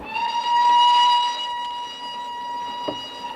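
A train whistle in a film scene sounds in long steady tones, loud and close at first, then fading as it continues alone.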